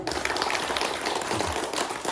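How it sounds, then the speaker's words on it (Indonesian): Indonesian parenting-class audience applauding: steady, dense clapping from many hands, moderately loud and continuous throughout with no talk over it. "Yuk, tepuk tangan dulu"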